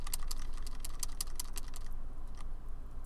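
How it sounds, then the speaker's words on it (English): Quick, irregular keystrokes on a computer keyboard rattle steadily for a couple of seconds, then thin out into a few scattered taps over a low background hum; no one speaks. "Now, what if I'm typing?"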